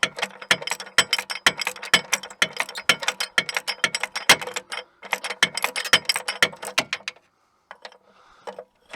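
A ratchet rapidly clicks while loosening starter bracket bolts on a 2006 Montana minivan, a dense run of close, sharp pawl ticks for about seven seconds, then stopping into near silence with a few faint knocks.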